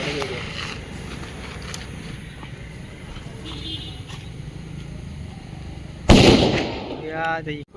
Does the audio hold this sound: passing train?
no